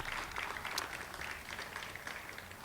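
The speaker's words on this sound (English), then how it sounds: "Please join me in giving all of these people a round of applause" Applause from a gathered audience at the reopening of a restored old building on a college campus, a steady wash of many hands clapping at moderate distance, even and sustained throughout.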